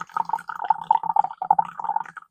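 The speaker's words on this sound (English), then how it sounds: "So here I'm trying to pour like a concentrated brew." Dark concentrated tea brewed from cha gao tea paste trickles into a cup, a close, steady run of bubbly drips and pouring for a couple of seconds.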